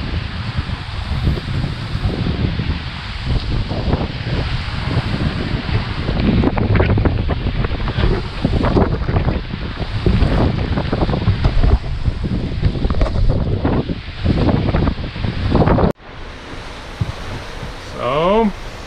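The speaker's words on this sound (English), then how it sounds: "shitty winds are coming, and we have a big squall here" Strong wind buffeting the microphone with waves and surf sloshing around a sailboat at sea during a squall, loud and continuous, with a brief dropout near the end.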